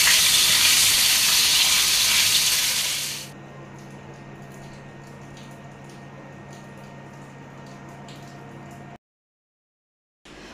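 Pieces of katla fish fry in hot oil: a loud, bright sizzle for a few seconds drops to a quieter, steady hiss, then briefly cuts out.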